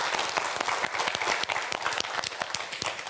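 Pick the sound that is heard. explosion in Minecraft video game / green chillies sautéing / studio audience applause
studio audience applause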